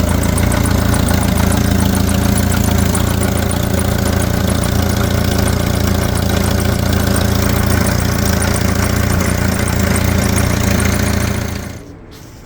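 1986 Jeep Comanche engine runs at a steady, loud, close idle for several seconds, its rough drone continuing evenly before cutting off abruptly near the end.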